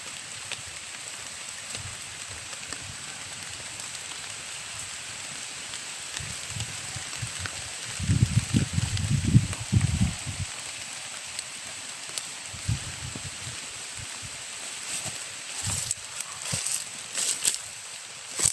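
Rain falls with a steady hiss, thickening into a louder, rumbling burst midway before easing back to a constant patter.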